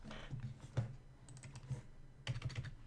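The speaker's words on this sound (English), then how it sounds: "Also, it's a little wireless keyboard." Someone types on a small wireless computer keyboard, giving bursts of light plastic key clicks with short pauses between them, close and alone.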